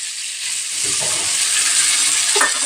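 Potatoes sautéed and stirred in a pan give a steady, loud sizzle with a few scraping stirs, close by and with no voices.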